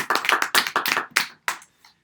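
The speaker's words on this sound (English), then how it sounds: "Let's give Jack a clap" Short burst of audience clapping at a poetry event's chairing of the bard, a handful of close, distinct clap volleys trailing off after about a second and a half.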